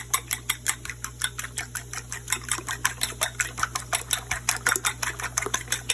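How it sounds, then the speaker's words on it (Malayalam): Eggs beaten by hand in a bowl for an omelette, giving a fast, steady run of sharp clicking taps close up, with no talking. "അപ്പോൾ മുട്ട സെപ്പറേറ്റ് എടുത്തിട്ടുണ്ട്. അത് നമുക്ക് ഒന്ന് അടിച്ച് റെഡിയാക്കാം."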